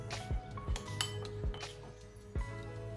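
A spoon stirring yogurt with chili powder, coriander and cumin in a bowl for doi aloo: close, light metallic clinks and taps against the bowl, about five distinct knocks at irregular intervals over a faint background hum.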